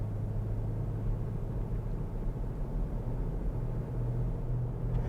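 A BMW X5M F85 towing a trailer on the road to a gas station, a steady low engine drone and road rumble heard from inside the cabin, continuous and even, no talking.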